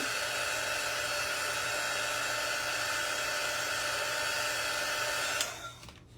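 A hair dryer blows steadily and loudly at close range while drying a Memorial Day craft, a constant roaring whoosh that cuts off near the end and winds down.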